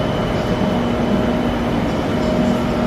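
A skytrain metro car runs along the track, a loud steady rumble with a faint whine and no break for the whole stretch.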